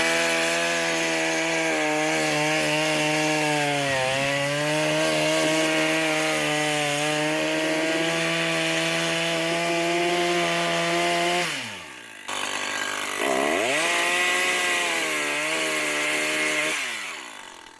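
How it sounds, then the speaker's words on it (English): A chainsaw cuts firewood held on a sawhorse-style log stand. The engine drones steadily for about twelve seconds, drops off, then revs up again and keeps cutting. "You can pull the chainsaw out and slide it in from underneath, from behind, and then cut up"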